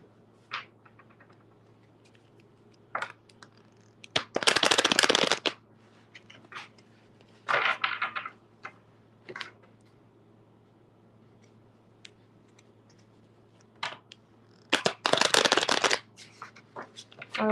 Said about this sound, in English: so I'm going to shuffle again.